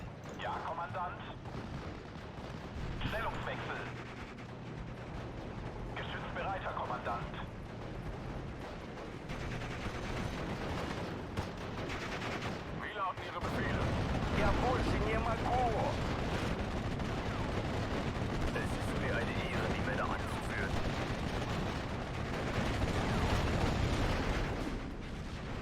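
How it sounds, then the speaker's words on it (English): Artillery fire in the WWII strategy game Steel Division: Normandy 44, with dense, continuous booms and crackling impacts that swell louder in the second half, under a wash of battlefield noise. "that artillery just hit my Fusiliers as they came in"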